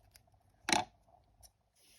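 Scissors snip crochet yarn for an amigurumi rubber ducky, a single quiet close cut followed by a couple of faint clicks in a hushed room.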